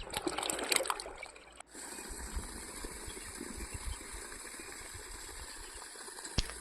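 Water from a 2-inch pipe fed by a 3 HP solar borewell pump splashes steadily down into a pit, a continuous rushing pour that briefly surges and dips before settling into an even flow.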